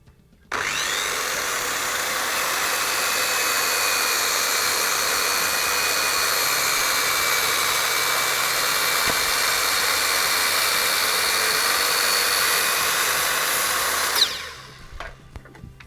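A circular saw with a resin-fouled blade cuts through pine SPF 2x4 lumber, a loud steady high-pitched whine running nearly fifteen seconds, then stopping abruptly as the blade spins down.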